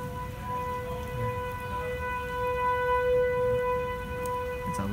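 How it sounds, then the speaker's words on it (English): A tornado warning siren wails steadily through the rain in Fairborn, Ohio, a sustained droning tone held at moderate loudness over the patter of falling rain, with no talking. "It's a loud siren."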